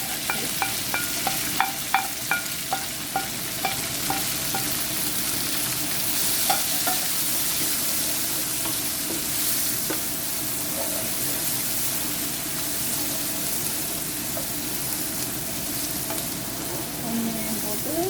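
Onions frying with spices in a pan for Tamil uppuma give a steady, close sizzle. A few sharp stirring clicks come early on, and no one speaks.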